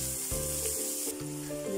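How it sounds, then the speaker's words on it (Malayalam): Shallots sizzle steadily in hot coconut oil in a pan for a traditional duck curry, a close, continuous frying hiss with faint stirring. "ഇനി ഇതിലേക്ക് കുറച്ച് വെളിച്ചെണ്ണ വെച്ച് കൊടുക്കാം. ഇനി ഇതിലേക്ക് ചെറിയുള്ളി കുറച്ച് വഴന്ന് വന്ന ശേഷം"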